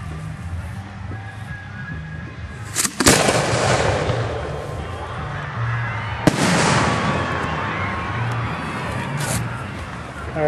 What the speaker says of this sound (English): Fireworks for the town of Ridgefield, Connecticut, here at Ridgefield High School.